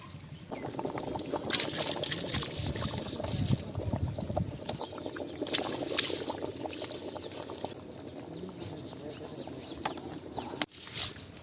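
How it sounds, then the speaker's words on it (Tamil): Soaked rice pours into bubbling black chicken biryani gravy, a wet rushing and trickling with spattering bursts and boiling bubbles, at close range with a bird calling faintly in the background. "கிரேவி நல்லா கொதிச்சிருச்சு இப்போ வந்து ஊற வச்சிருக்கிற அரிசி எடுத்து நான் போட்டுக்கிறோம்"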